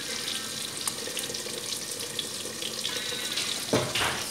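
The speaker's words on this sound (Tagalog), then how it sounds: "ilagay din natin ang hot water" Hot water pours into a pot of beef for a curry, making a continuous loud splashing rush throughout with a brief louder surge near the end.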